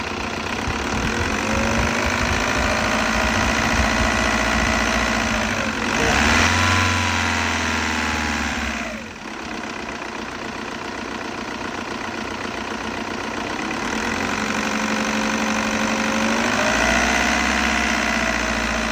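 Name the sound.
2002 VW Jetta TDI 1.9 diesel engine running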